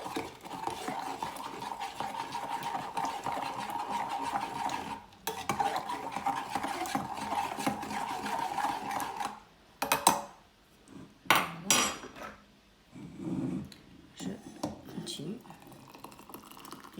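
A teapot of mint tea is stirred gently, with a steady metallic swirl and faint clinks for several seconds, then a pause and a few louder knocks and scrapes against the pot. A voice speaks quietly underneath.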